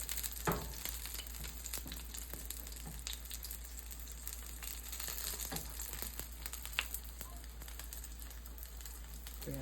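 Jamaican saltfish fritters made with baking powder fry in hot oil, giving a steady, fairly quiet sizzle with scattered crackles and pops throughout.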